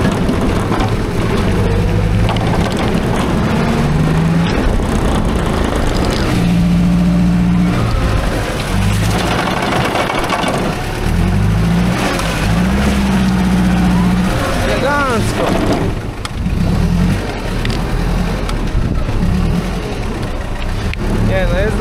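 Hyster forklift engine running steadily on a test drive after repair, a loud low drone with rising and falling revs and gear shifts, heard under continuous talking.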